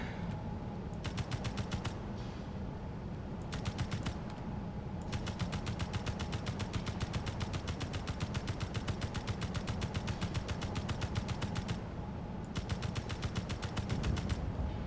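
Automatic rifle fire at a pirate outpost in Space Engineers, long rapid bursts of evenly spaced shots broken by short pauses, loud and steady over a low mechanical hum.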